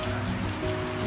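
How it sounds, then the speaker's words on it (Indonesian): Light drizzle patters steadily and softly on surfaces outdoors in a rural area, with a low background hiss. "Kita kerja ini dalam kondisi hujan gerimis"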